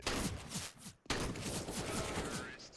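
Mag 7 shotgun fire in a Counter-Strike match on Ancient or Inferno, sharp bursts mixed with other rapid gunfire and game sounds, a brief drop near the one-second mark before the shooting resumes, with faint voices in the background.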